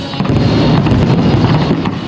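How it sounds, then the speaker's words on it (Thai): Fireworks at night over the Mediterranean Sea in Monaco, a dense continuous roar of crackling bursts and rumbling booms, loud and sustained without pause. "การจุดพลุสว่างสวัยในยามค่ำคืน เหนือทะเลเมดิเตอร์เรเนียน"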